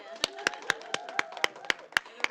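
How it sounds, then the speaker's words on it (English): A small round of applause at a human rights commission event on regional reparations: sparse, separate claps at a steady rhythm, close and distinct, with few hands joining in. "big round of applause for San Francisco."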